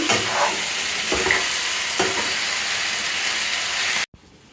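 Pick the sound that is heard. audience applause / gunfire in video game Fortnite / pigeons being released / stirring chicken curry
stirring chicken curry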